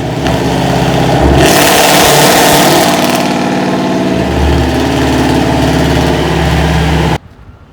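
Straight-piped Dodge Charger R/T with stock headers and catless mids, heavily modified widebody, revving loudly and close for about seven seconds, the note rising and falling through several blips before cutting off abruptly.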